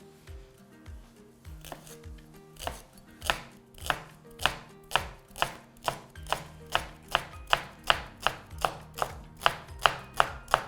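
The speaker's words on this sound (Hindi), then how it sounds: "जब भी आप स्प्रिंग अनियन काट रहे हैं उसका वाइट अलग रखें और ग्रीन पार्ट अलग रखें." Spring onions are chopped with a knife on a chopping board, a steady run of sharp, close knife strikes that grow louder and faster into an even rhythm, with no talking.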